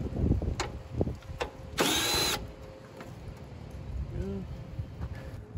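Two 10mm bolts being removed from the grille of a third-generation Toyota Tacoma, a single short whir of a power driver amid light clanks and handling noise, with a faint voice nearby.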